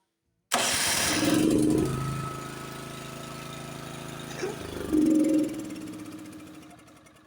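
A flooded Honda snowblower's small engine turned over by its electric starter: a loud whirring crank that catches, a running drone, then a second crank burst before the engine settles into a steady run, close by.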